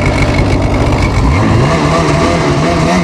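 A new snowmobile engine revs hard and loud up close, pitch climbing steadily as it pulls with a continuous throaty roar.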